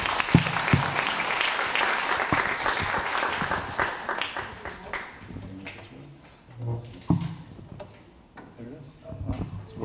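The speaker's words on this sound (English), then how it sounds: "let's get a round of applause for Sree." Audience applause at a data and UX presentation, a dense burst of clapping that fades and thins out while a voice talks over the dwindling claps.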